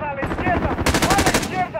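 Gunfire in Call of Duty: Modern Warfare, a close, loud rapid burst of automatic shots cracking in quick succession, with shouted voices around it.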